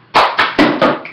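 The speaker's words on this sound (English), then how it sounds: "So it's then you clap, and then you move it to the side." A few sharp hand claps and taps land close up in a quick uneven rhythm, part of a cup song routine, with no talking over them.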